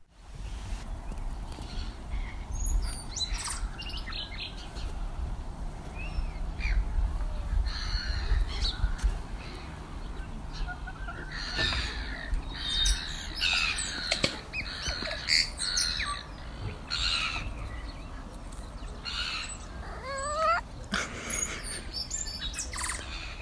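Outdoor birdsong on Watership Down: bursts of chirps and squawky calls from a yellowhammer and house sparrows, scattered irregularly over a low background rumble for about twenty seconds.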